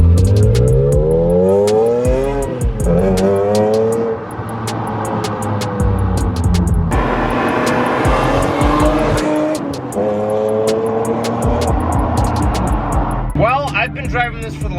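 BMW E46 M3 with a Magnaflow catback exhaust revving and pulling hard, loud engine tones climbing and falling through several pulls, with some tire noise and talk over the top.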